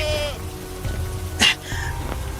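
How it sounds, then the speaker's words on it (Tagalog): A goat out in the rain some distance away gives a few wavering bleats over the steady hiss and patter of rainfall, with a sharper splash or knock in between. "May kambing sa di kalayuan. Hindi yata naisilong na may-ari."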